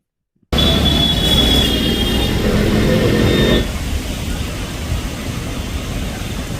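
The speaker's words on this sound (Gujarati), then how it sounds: "જિલ્લાના ગ્રામ્ય વિસ્તારોમાં શરૂ થયો પવન સાથે વરસાદ" Heavy rain hisses steadily with a rushing wind over Bhavnagar district after a brief silence, loud and continuous, easing slightly partway through.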